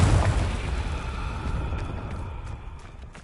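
Explosion from the Confringo fire spell in the video game Hogwarts Legacy, a heavy low boom at the start that rumbles and slowly dies away.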